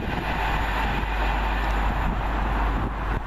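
A Virgin passenger train bound from London Euston to Manchester Piccadilly via Stoke-on-Trent rushes past at Cheddington. It makes a continuous loud roar with deep rumble and broadband wheel and air noise throughout, and no voices are heard.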